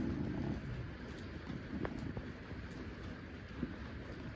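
Steady, soft rain hisses in the background, with a few faint drips and taps scattered throughout.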